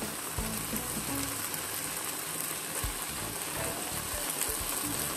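Tomatoes, capsicum and onions sizzling in a hot pan alongside chicken, a dense, even crackling hiss with a few soft knocks, close and steady throughout.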